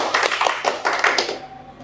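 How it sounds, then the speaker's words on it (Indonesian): Quick round of audience applause, a cluster of brisk hand claps with an uneven rhythm that tapers off toward the end, moderately loud and near, without talking. "Tepuk tangan."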